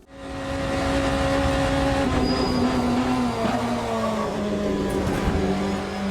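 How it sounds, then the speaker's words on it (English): A loud hypercar engine roars steadily in the racing game Le Mans Ultimate while a thin, high tyre squeal rises over it as the front left wheel locks under hard braking. "we're locking up our front left tyre a lot during heavy braking"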